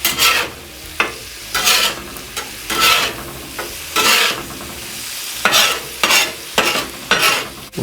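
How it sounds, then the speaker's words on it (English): Onions and bacon fry on low heat for smash burgers, a steady close sizzle broken by regular rhythmic scraping stirs from a spatula roughly every second. "the reason I want this nice and low is so that my onions caramelize and that the bacon fat renders out of my bacon"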